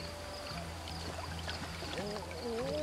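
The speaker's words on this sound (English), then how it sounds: "Let's go ahead and drink some water." Water pouring and trickling as a character drinks from a stream in the prehistoric survival game Ancestors: The Humankind Odyssey, a steady flowing wash with small splashes and burbles over faint background game ambience.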